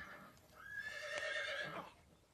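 A horse whinnies at a stable or ranch, one drawn-out neigh with a wavering pitch, moderately distant and fairly quiet against faint background noise.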